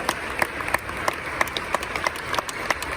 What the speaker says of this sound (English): Big round of applause for Satoshi Vision.